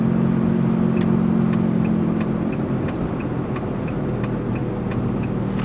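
A 2002 VW Beetle TDI drives at speed with a steady road and engine drone, a faint rhythmic ticking repeating about twice a second from a suspected front passenger-side wheel bearing, heard from inside the cabin.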